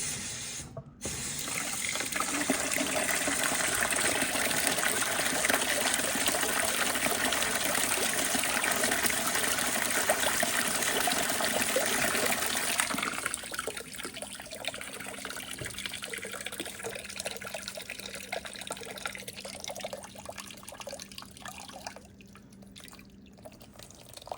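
Water from an electric heater runs through a garden hose into the upper radiator and engine block of a 1998 Toyota Camry LE during a cooling system flush, a steady close rush that drops to a quieter trickle partway through.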